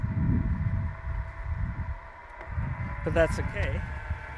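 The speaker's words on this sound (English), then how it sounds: "First thing you'll notice, not the world's quietest electric motor." An electric outboard motor whines steadily with a faint tonal hum beneath gusty wind noise on the water, while a person speaks briefly over it.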